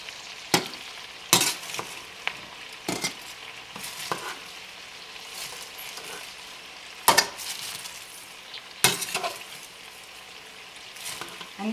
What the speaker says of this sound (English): I'm going to toss this in the butter. Just take a couple of tosses.